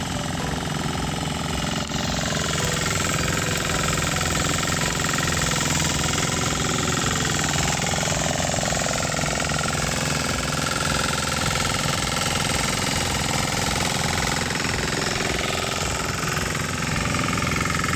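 A Kalis power weeder fitted with sixteen blades runs continuously in the field, a loud, steady engine roar with rattling, churning texture that holds unbroken throughout, with no talking.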